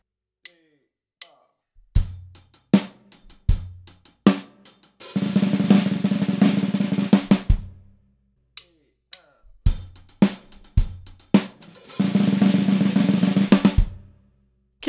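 Drum kit fill leading into the verse of a song, with spaced single tom and snare hits building into two dense bursts of full-kit playing with crashing cymbals, close and loud with no voices.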